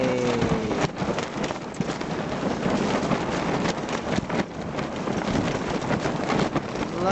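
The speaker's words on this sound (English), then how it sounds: "Look at that, man. It's blowing. Look at that wind action." Strong wind buffets the microphone in a continuous, loud, rumbling roar with gusty surges throughout, outdoors on a windy day.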